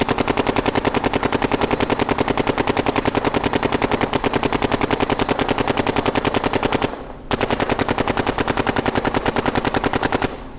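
A Planet Eclipse GTEK 160R paintball marker fires long rapid bursts, a dense machine-gun-like stream of loud close shots broken by one brief pause before firing resumes, with no talking.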